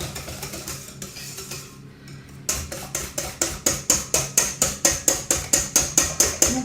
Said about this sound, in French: on mélange énergiquement, comme d'habitude, quand il y a le sucre